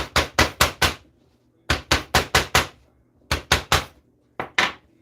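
Close, sharp hammer taps on the edges of a leather wallet in quick bursts of four or five strikes, separated by short pauses, with no talking.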